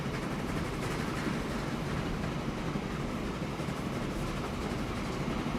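A steady, continuous rumble of a train rolling along the tracks in the video game Train Fever, constant and fairly loud with no pauses or voices.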